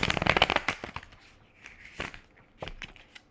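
An Arthurian Legend tarot deck is shuffled by hand, with a quick burst of crisp riffling card snaps followed by a few sparse taps and flicks, close and fairly quiet.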